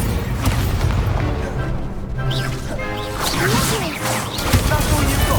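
In the Hogwarts Legacy video game, an Incendio fire spell is cast amid a busy battle mix of whooshes, crashes and thuds, with a voice calling out over the continuous game sounds.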